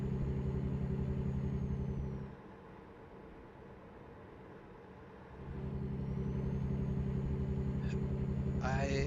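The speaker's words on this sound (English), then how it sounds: "the sound of that engine is kind of pulling at max RPM, time to shift" A heavy truck engine in American Truck Simulator drones at high RPM with a steady low rumble, dropping away for a few seconds mid-shift before climbing back up to full revs.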